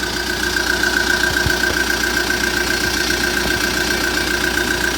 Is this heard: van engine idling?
yes